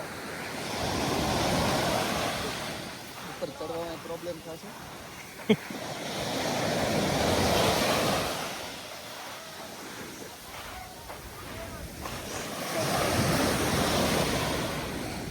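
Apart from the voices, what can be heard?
sea waves on the shore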